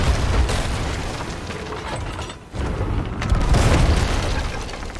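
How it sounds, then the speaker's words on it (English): Ship cannons boom in Sea of Thieves during a sloop battle at sea, heavy blasts with rumbling low end and mechanical clanks, a brief lull in the middle before the firing noise swells again. "I'm gonna shoot him right in the face with a cannon"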